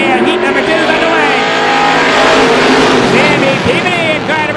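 Strictly stock race cars roar off at the green flag of a heat at Star Speedway, a loud, dense wall of engines revving together close by, with an announcer's voice calling over the noise.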